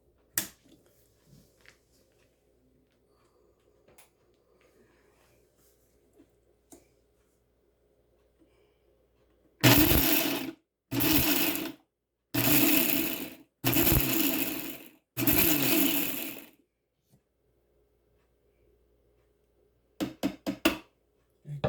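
A kitchen mixer grinds custard apple pulp for juice in about five short, loud pulsed bursts separated by pauses, followed by a few quick faint clicks at the end.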